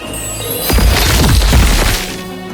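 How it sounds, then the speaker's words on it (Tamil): A loud explosion sound effect bursts in after a brief lead-in, a crashing boom with scattered debris-like clatter that sustains for over a second and then tapers off. "என்ன ஒரு வெடிப்பு!"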